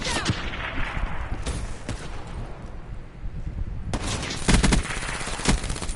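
Rapid gunshots from an online shooter video game, dense bursts of automatic fire rattling loudly and close, with a lull in the middle before heavier volleys resume.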